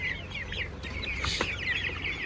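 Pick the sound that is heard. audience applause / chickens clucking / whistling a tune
chickens clucking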